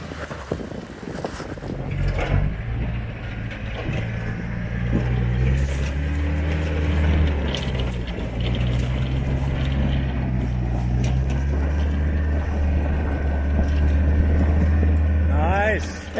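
A 4WD vehicle climbs a rock step on a trail at Jellore, its engine droning and rising under load, close and fairly loud, while people talk over it.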